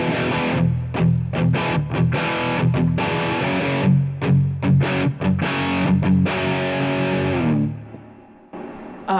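Distorted electric guitar plays the second half of the first verse of a song, in loud chord bursts separated by brief gaps, then fades out at the end.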